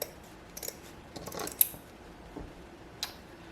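Scissors snip ribbon for a simple fall rustic wreath, cutting in toward the thumb to notch a V into the ribbon end: a few faint, quiet snips scattered over a soft background hiss, with no talking.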